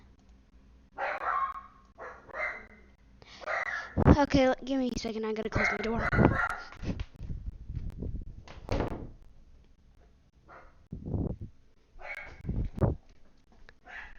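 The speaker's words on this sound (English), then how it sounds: "My dog is very, very loud. He literally does that all day." A dog barks loudly indoors in a run of sharp, close barks, with a person talking and a door thudding shut nearby.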